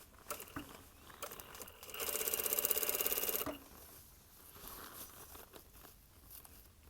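A sewing machine stitches the torn lining of a leather jacket in one close, rapid mechanical burst of about a second and a half, set among quiet rustles and handling noises of the fabric, with no talking.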